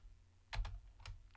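A few quiet keystrokes clack on a computer keyboard, a couple of quick taps followed by a pause and then a few more, close and soft with no voices.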